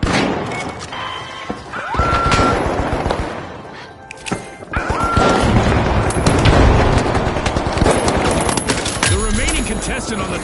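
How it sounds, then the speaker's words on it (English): Goo grenades thrown and bursting at a game show event, a run of loud crashing thumps and booms with a busy crowd and commentator voices underneath. "Throwing goo grenades! Throwing some goo!"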